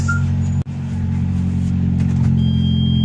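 A car engine idles while warming up, making a loud, steady low rumble close by with a brief dropout near the start.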